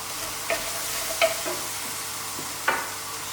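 Garlic and ginger fry in a pan for a Thai okra curry, a soft, steady sizzle broken by a few sharp clinks of stirring, with no talking.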